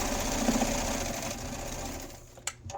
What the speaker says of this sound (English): And then I'm just going to stitch in the ditch.